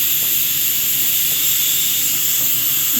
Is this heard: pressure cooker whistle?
yes